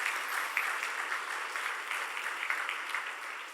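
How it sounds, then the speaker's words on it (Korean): Congregation applause in a church service, offered as comfort to a pastor and his wife; steady, dense clapping from a crowd throughout, moderately distant with no voices over it. "우리 위로의 박수 한번"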